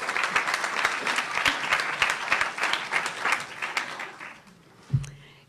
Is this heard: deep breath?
no